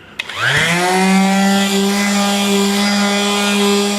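A power sander spins up quickly on a wooden dining table and holds a steady, loud whine with a droning hum, running continuously without pause.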